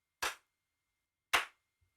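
Two sharp hand claps about a second apart ring in a room, each trailing a short slap-back flutter echo before silence.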